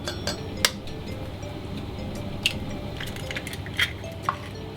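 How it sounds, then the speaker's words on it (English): Two eggs going into a mixing bowl for German honey cookies, a few faint clinks and taps of shell against the bowl spaced out over a quiet kitchen background. "We're going to put 2 eggs into our bowl."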